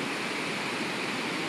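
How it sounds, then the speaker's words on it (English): Ocean waves roll in as a steady, dense wash of broadband surf noise, loud and continuous for the whole stretch, with no breaks, no distinct crashes and no voices. "breathe in the sound of the waves"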